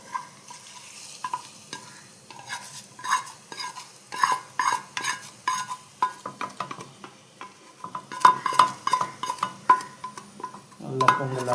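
A spoon stirs tempering into pongal in a pan, giving repeated scraping and clinking knocks against metal in an uneven rhythm over a soft sizzle, closer and busier toward the end.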